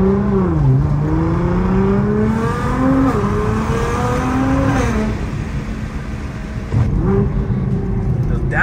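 A Nissan GT-R engine revs hard and drops through several downshifts, its loud, close drone rising and falling in pitch, with a brief lull near the end before the engine roars again.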